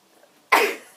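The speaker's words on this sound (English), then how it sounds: "We're going to call this the one with all the sneezing." A single sharp human sneeze bursts out close and loud after a moment of near silence, then trails off quickly.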